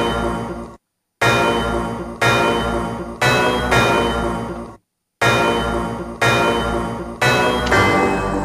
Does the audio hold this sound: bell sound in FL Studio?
yes